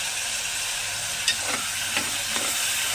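Potato pieces with salt and turmeric fry in a pan for a puri curry, a constant close sizzle broken by several soft scraping strokes as they are stirred.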